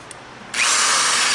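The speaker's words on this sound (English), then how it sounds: "I've got to drill a hole in both sides, and so what I do is I just take my drill" A power drill starts boring a hole into the metal frame of a boat trailer, a faint tap first, then a sudden loud, steady high-pitched whine that runs without a break to the end.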